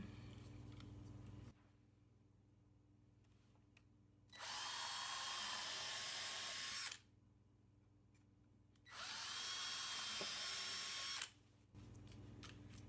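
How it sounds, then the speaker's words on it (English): A power drill whirs loudly while pre-drilling holes in wood, in two sustained bursts of a few seconds each, separated by quieter pauses with a low steady hum. "I'm going to start with pre-drilling the holes so my wood doesn't split."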